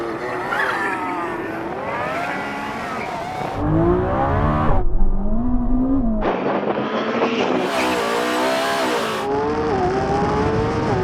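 A Lamborghini Revuelto and a Ferrari SF90 launch side by side in a drag race, engines roaring loud and close as they rev up through repeated gear changes with sharp shifts between pulls.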